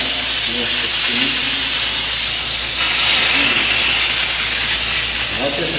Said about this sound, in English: we're just going to simply kind of fog the chair with a nice light mist of steam